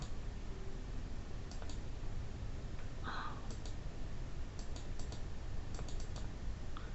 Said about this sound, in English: Double clicking each time.